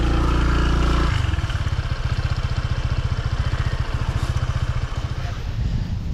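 Motorcycles crossing a flooded stream swollen by a typhoon, a loud close engine chugging in a rapid steady rhythm after an initial burst of rushing water and noise.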